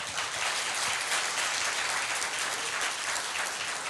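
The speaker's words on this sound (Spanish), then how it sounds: "¿Por qué no le damos un aplauso al Señor entonces?" A church congregation claps together in worship, a broad, even wash of applause that stays moderately loud and continuous from start to finish, with no voices rising above it.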